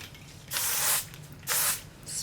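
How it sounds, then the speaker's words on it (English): Two short bursts of aerosol hairspray, each a hissing blast lasting about half a second, close to the microphone with a brief pause between them. "This is my favorite hairspray."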